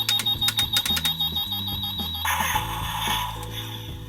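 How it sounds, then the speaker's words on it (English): A Power Rangers S.P.D. Red Ranger toy blaster gives a run of loud, rapid electronic charging beeps, then bursts into a harsh, noisy firing blast that carries on to the end. "you get this really loud beeping sound like it's charging up, and then it finally fires"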